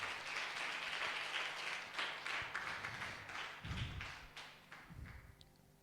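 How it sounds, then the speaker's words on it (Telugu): Congregation at a church service clapping hands together, a dense, sustained patter of many hands fairly close, with a few heavier thuds near the end. "ఒకసారి అందరం కూడా చప్పట్లు కొట్టి దేవుని మహిమపరుస్తాం"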